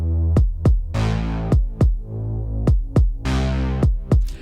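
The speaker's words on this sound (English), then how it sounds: "we can kind of hear that the synth is ducking" A sustained synth pad ducks in volume each time a kick drum hits, because pre-fader sidechain compression is keyed to the kick. The kicks land on a steady beat and the pad swells back between them, with no voices.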